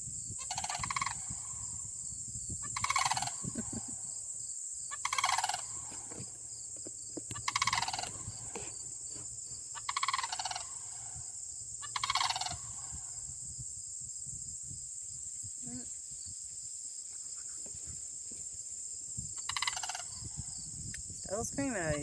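Sandhill cranes call back and forth in loud, rattling bursts roughly every two to three seconds, with quieter gaps and a softer call near the end, over a steady insect-like background hum.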